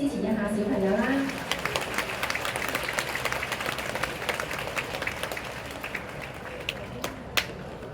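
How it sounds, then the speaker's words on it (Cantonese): Applause from parents at a kindergarten graduation ceremony, loud at first with some voices over it, then settling into steady, sustained clapping across the hall for the children, with a few sharp claps near the end. "家長，我哋再俾啲掌聲支持一下小朋友啦"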